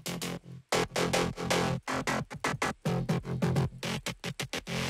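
Wide, growly FM-style synth bass patch from Serum, played as a loud rhythmic sequence of punchy, chopped notes with short gaps, dense and full-bodied.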